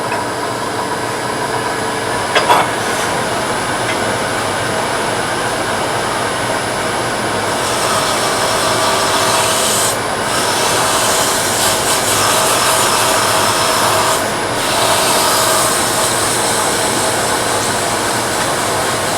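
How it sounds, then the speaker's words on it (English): Steady abrasive sanding against a small ebony Christmas ornament spinning on a lathe, a continuous whirring rasp with a brief clunk early on and slight shifts in intensity throughout. "I'm going to do some sanding before I do any more."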